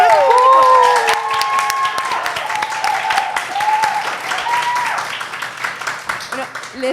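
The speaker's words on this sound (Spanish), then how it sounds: "un fuerte aplauso a nuestro público" A live podcast audience applauds and cheers at a recording in front of a crowd, steady clapping filling the room while a host speaks over it and the applause gradually thins out.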